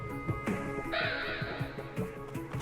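Bird character in a video game letting out harsh, crow-like cawing calls, repeated several times over game background sound and music, fairly loud and close.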